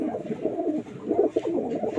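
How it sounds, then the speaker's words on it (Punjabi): A blue pigeon coos in low, throaty, rolling phrases, close and moderately loud, in two bursts separated by a short pause. "ਆਪਣਾ ਨੀਲਾ ਕਬੂਤਰ ਉਹ ਬੈਠਾ ਅੰਡੇ ਛੱਡ ਗਿਆ"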